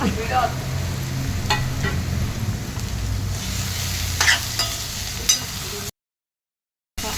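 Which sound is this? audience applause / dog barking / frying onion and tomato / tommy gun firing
frying onion and tomato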